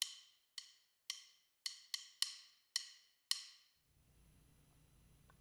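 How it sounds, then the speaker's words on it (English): Eight crisp, dry clicks of drumsticks struck together ring out from a sampled 1980s Abbey Road studio drum kit, evenly spaced with short bright decays, followed by faint low room noise. "Sticks hitting together."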